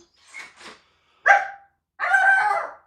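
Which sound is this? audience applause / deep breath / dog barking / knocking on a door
dog barking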